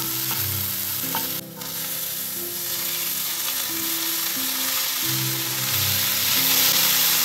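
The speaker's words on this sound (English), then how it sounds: "If you fry the paneer too, it makes it really yummy." Leftover homemade paneer sizzles and fries steadily in a pan, a close, continuous crackle with occasional stirring scrapes and no talk.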